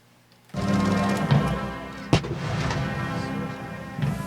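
Ceremonial cannon fire at a commemoration of the 70th anniversary of the end of the Second Sino-Japanese War: a deep booming report opens, then a second sharp blast follows about 1.5 seconds later, rolling and reverberating outdoors.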